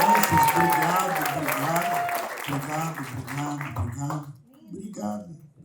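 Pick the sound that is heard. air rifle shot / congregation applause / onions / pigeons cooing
congregation applause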